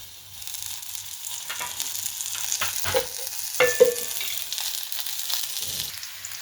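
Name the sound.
onion and green chili frying in oil in a kadhai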